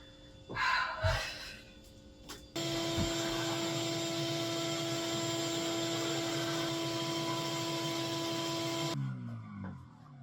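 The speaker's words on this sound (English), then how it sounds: "I should probably vacuum behind it, shouldn't I?" A vacuum cleaner switches on with a loud, steady droning whine that holds for several seconds, then winds down, after some brief knocks and rustling beforehand.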